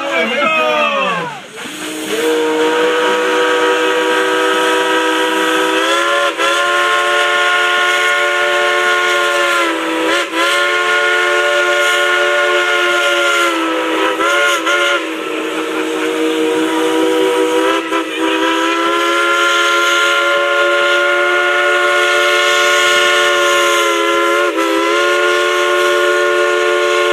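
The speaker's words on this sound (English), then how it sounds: "Would you like to hear our engineer play a little tune on a genuine Blowin locomotive whistle?" The steam whistle of Dollywood Express Engine 192 blows a long, loud, continuous tune, its sustained chime notes shifting in pitch with a few brief breaks, played by the engineer at the theme park railway.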